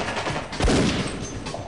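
Gunfire in the video game Half-Life: Azure Sheep, a short, close burst of shots with one strong punchy report partway through, standing alone without speech.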